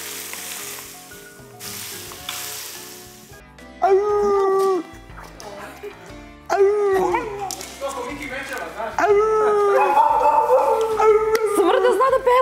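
After a hissing, sizzle-like start, a dog howls close by in drawn-out, rising and falling tones, as if singing, in several loud phrases with short breaks between them.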